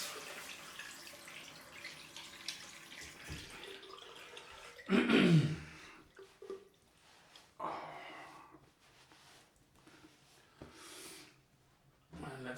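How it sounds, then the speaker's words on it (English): Cold tap water running over a freshly shaved head, a burst of splashing and pouring in the middle followed by scattered drips and smaller splashes, with faint breathy sounds between. "time for cold rinse"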